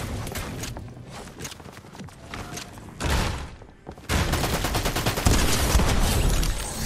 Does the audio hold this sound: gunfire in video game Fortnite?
yes